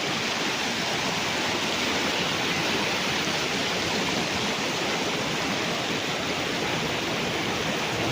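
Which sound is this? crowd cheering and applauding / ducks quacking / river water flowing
river water flowing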